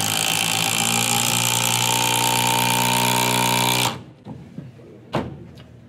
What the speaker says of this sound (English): and then we're going to run the M12 Fuel Surge.